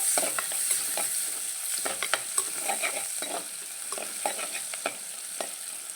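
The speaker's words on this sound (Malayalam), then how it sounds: "ചെറിയ പത്ത് ഉള്ളി ഇട്ടിട്ടുണ്ട് കേട്ടോ ചെറുതാണ് നന്നായിട്ട് മൂക്കട്ടെ" Ten small onions frying in a pan, a busy close sizzle with a rapid run of spoon scrapes and taps throughout, no voices.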